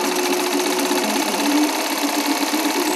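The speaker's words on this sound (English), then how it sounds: "Eager hands on an electric sewing machine, Yunusa's joy of powering up his tool" An electric sewing machine runs steadily at a Nigerian workshop powered by a mini-hydro electricity scheme, giving a continuous close motor whir and rapid needle chatter that holds even for three seconds with no talk.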